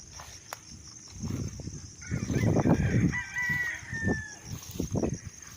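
On a farm lot in Calauan, Philippines, a rooster crows in the distance, a drawn-out call rising and falling, over clucking hens and faint outdoor background noise.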